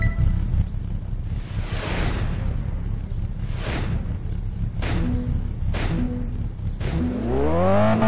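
Car in Test Drive Unlimited 2 on PlayStation 3, engine droning loudly with several whooshing passes and swells, then a rising rev as it accelerates near the end.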